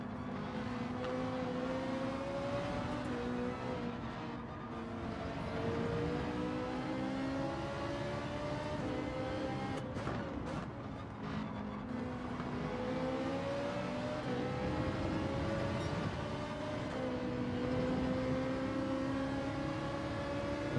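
Racing car engines in Gran Turismo 7, with a Lamborghini and a GT-R among the field, hold a steady high whine that rises and falls through gear changes for the whole stretch, loud and continuous.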